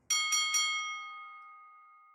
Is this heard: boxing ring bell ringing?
yes